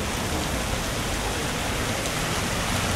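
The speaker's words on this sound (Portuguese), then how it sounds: "chuva caiu durante todo o dia, mas ela ficou mais forte às 4h30 da tarde" Heavy rain pours down through a long day in town, a dense, loud, unbroken hiss of drops hitting surfaces with no voices.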